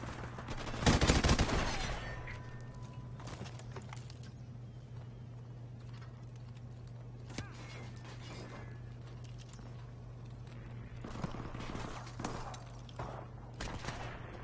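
A sharp burst of gunfire in Call of Duty: Modern Warfare Remastered opens loudly, then scattered quieter shots and clicks pop over a steady low hum.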